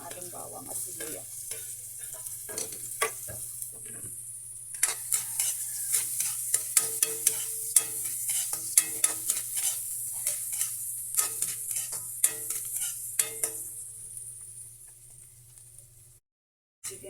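Garlic and onion sauté in a pan for a mussel tinola, with a continuous loud sizzle and frequent scraping stirs and utensil clicks, cutting off abruptly near the end.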